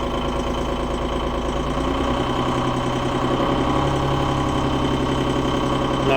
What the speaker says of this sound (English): I'll rev her up a little bit.